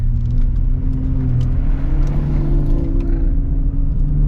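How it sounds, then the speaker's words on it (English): Ford F-150 Raptor engine running steadily with a strong low rumble and a constant hum, turbo whir and whistle rising faintly above it, loud and close, no voices. "You do hear a lot of turbo noises, which is pretty interesting."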